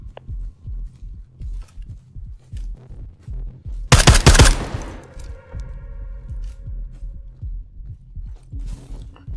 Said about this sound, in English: Shot from outside. Shot from outside.